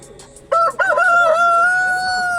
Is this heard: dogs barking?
no